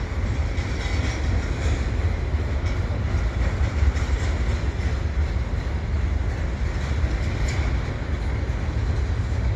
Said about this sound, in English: Looks like it is a stack train after all.